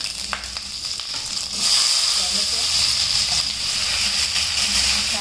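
Mustard seeds and curry leaves hit hot oil for a loud, steady sizzle and spatter that swells after the first second and then holds, close up, with no talk over it.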